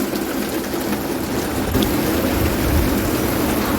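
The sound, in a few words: heavy monsoon rain with thunder in Mumbai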